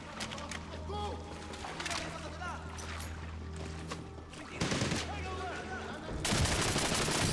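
Gunfire from the shooter game Medal of Honor Warfighter, repeated bursts and shots crackling over a steady rumble of game ambience, growing louder toward the end.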